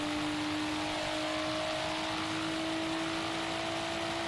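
A Nissan Skyline R34 engine in the racing game Forza Horizon 3 drones at a steady pitch, with a sustained whine and a low rumble held evenly under a faint background, with no voices.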